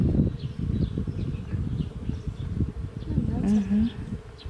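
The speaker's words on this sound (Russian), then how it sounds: "Ти чуєш цей звук? От послухай, бджоли." Bees buzzing outdoors among flowering plants, a dense continuous hum with individual insects droning past close by; a bird chirps briefly and wind rustles faintly.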